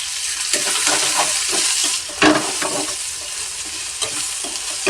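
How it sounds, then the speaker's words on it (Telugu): Ivy gourd (tindora) frying in a pan with peanuts, a steady close sizzle broken by scraping stirs and occasional spatula knocks, loud and continuous with no voices. "దొండకాయ ఫ్రై అవుతుందండి"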